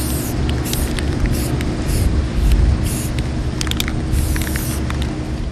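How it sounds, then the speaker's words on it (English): Aerosol spray paint hissing onto a craft hoop, a series of repeated short bursts, close and fairly loud, with a steady low background rumble between sprays and no talk. "after we've spray painted it"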